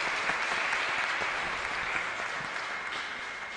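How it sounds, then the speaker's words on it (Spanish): A congregation at a Catholic Mass applauds in a steady, even wash of clapping that lasts a few seconds at moderate volume. "Se merece nuestro aplauso."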